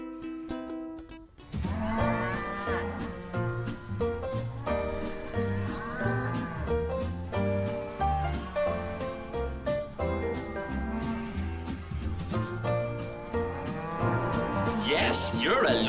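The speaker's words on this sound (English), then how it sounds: "Yes, you're a lovely cow" A cartoon cow on a farm in a children's animated show moos amid bright background music, the calls rising out of a busy musical backing.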